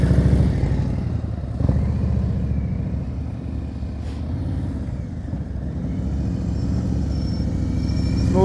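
A motorcycle idles and putters at low speed through a slow U-turn on a Florida practice lot, its engine a steady low rumble with a brief rev near the start.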